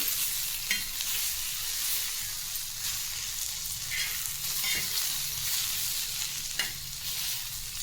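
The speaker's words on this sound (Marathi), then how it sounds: "भेंडी छान वापरली आहे आठ मिनिट झालं आहे परतून घेऊया" Okra is stir-fried in a pan for a fasting dish: a constant close sizzle with occasional scraping stirs and soft clinks, and no one talks.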